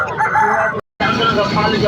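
An Aseel rooster crows loudly and close at a poultry market in Tando Adam, split by a brief cut of silence before the crow continues.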